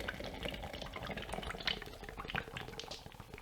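Marshall beer poured from the bottle into a glass, giving a steady gurgling, fizzing liquid stream with bubbling throughout, fairly quiet and close, with no voices.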